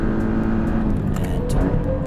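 A 2018 Porsche 718 Cayman GTS with 365 horsepower accelerating hard out of a corner onto a race track straightaway, a loud, steady engine drone heard from inside the car with faint tire and road noise.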